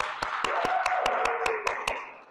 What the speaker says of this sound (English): let's give God a great hand clap of praise for Avilah,